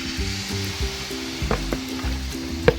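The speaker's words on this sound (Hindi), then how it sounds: "इसमें ये दाल शामिल करके बिल्कुल लो आंच पे आपने इसको भून लेना है अच्छी तरह" Chana dal roasts in hot desi ghee over a low flame, giving a steady close sizzle with a low bubbling undertone and a few soft scraping knocks from the pan.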